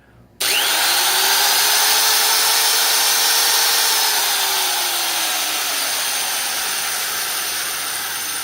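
A Harbor Freight electric die grinder, 4.3 amps at 25,000 RPM, switches on abruptly and runs with a loud, steady high-pitched whine that slowly winds down in pitch, no talking.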